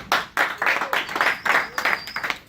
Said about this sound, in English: Let's give this man a round of applause.